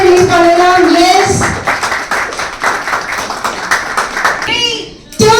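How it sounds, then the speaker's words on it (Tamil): Audience at a women's awards event clapping as a poster is released, continuous applause under a loud voice speaking over a microphone, dipping near the end before a sharp burst. "ஒரு பெரிய கைத்தட்டலோட நம்மளோட போஸ்டர் ரிலீஸ் பண்ணலாம்."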